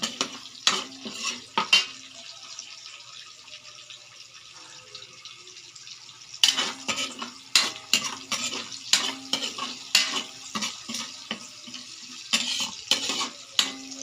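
Crushed garlic and black pepper sizzling in a pan as they brown, with a steady soft fry broken by bursts of clattering stirring and scraping of a utensil against the pan.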